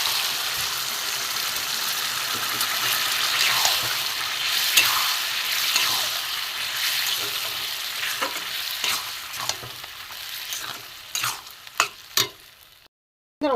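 Boiled dal poured into a pan of cooked-down chicken masala and stirred, a soft continuous sizzle with scraping spoon strokes, ending in a few sharp knocks and a brief silence.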